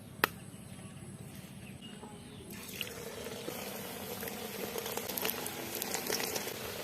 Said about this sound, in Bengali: এইবার পিঠাগুলো ভাজি নিম।